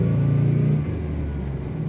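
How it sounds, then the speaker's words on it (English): A 1993 Chevrolet C1500 pickup's 4.3 V6 engine idles with a steady low rumble, close by and unbroken, with no voices. "It's a decent rumble from a V6"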